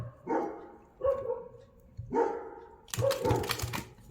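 Two dogs, a Rottweiler and a small-breed dog, bark in four distinct bursts about a second apart, fairly close, with the last burst louder and more excited.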